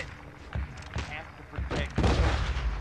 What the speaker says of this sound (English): I'm just shooting the fuck out of these guys.